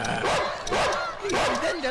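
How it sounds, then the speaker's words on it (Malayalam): A dog barks repeatedly in short, loud bursts close by, with voices and noisy background mixed in. "പട്ടി"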